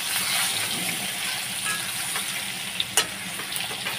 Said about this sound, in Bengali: আলুটা লাল লাল করে ভাজা